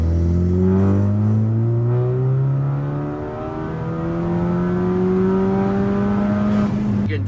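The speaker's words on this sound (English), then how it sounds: "when I do a full pull in third gear and have to go like to the 6 grand and a little bit past" A turbo-swapped VW MK6 GLI with an IS20 turbo and JB4 tune, running about 23 psi of boost, pulls hard in third gear toward 6,000 rpm, its engine note loud and steadily rising with a brief dip midway.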